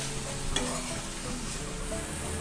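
Chopped tomatoes and onions cook for a curry gravy in a pan, giving a continuous even sizzle with a single clink of a spoon early on, close and steady throughout.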